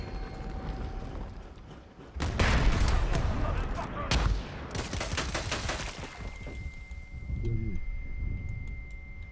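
A grenade blast in a Predator video game, a sudden loud burst followed by crackling debris and scattered gunfire-like reports, with a second sharp burst midway and a shorter tail as a voice speaks near the end.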